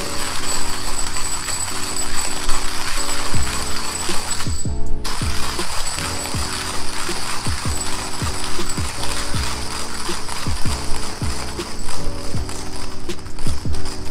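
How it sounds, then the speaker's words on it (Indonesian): A coffee grinder grinds 12 grams of beans super coarse for a French press. The loud, close grinding is continuous, with rhythmic ratcheting clicks and gear rattle the whole way through. "Oke, 12 gram kita giling."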